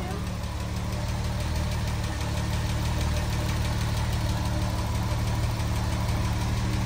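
A 1962 Jaguar XKE engine idles after a cold start, a steady, loud, close rumble that holds constant throughout with no talking over it.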